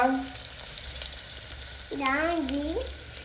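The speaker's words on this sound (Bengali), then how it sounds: "তো এদিকে পেঁয়াজগুলো দিয়ে নিচ্ছি" Onions are tipped into hot oil in a home kitchen pan as dashi chicken is cooked, and a steady, close hiss of sizzling follows with a brief voice heard over it.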